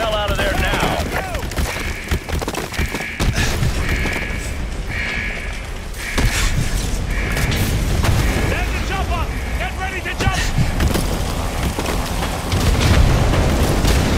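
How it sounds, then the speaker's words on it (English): Heavy artillery bombardment in Call of Duty MW2 Remastered, with loud booming explosions rolling continuously amid chaotic battlefield noise, whistles and rumbling debris, with shouting voices mixed in. "They started the bombardment early."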